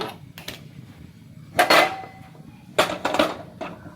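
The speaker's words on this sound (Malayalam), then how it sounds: "അതാ നമ്മുടെ ചട്ടി അടുപ്പ് വെച്ചിട്ടുണ്ട്" A metal pan clanks and scrapes in a few short bursts as it is set down on a stove with clatter, separated by quiet pauses.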